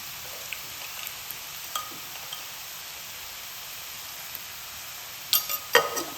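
Chopped onions and salt sizzle in a pan with a faint, steady frying hiss, and a few light stirring scrapes and clicks come near the end.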